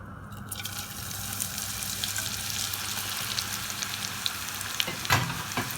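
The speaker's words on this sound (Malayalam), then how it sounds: "നാളികേരം ഒന്ന് വറുത്ത് കോരാം." Grated coconut fries in about five tablespoons of hot coconut oil, giving a steady close sizzle with light stirring scrapes and a few sharper crackles near the end.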